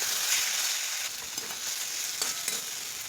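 Turmeric, chili and cumin powders with Kissan ketchup sauce fry in a pan, giving a close, steady hiss and sizzle with a few brief stirring scrapes and no talk.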